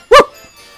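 A single sharp dog bark, loud and close, followed by quiet room tone.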